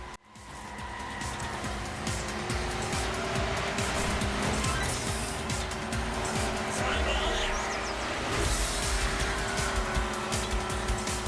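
Arcade racing cars in Hotshot Racing roar continuously with engine drone, tire squeal and skids throughout, loud and close, with a voice speaking over part of it.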